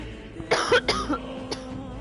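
A single close, raspy cough with a couple of short bursts, followed by a fainter throat sound.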